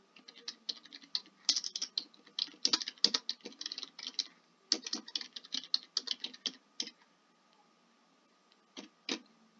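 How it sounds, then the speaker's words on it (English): Rapid bursts of keystrokes on a computer keyboard, close and crisp, running in quick flurries with brief pauses and a last few taps after a gap near the end; no one speaks. "You could start typing a variety of different options."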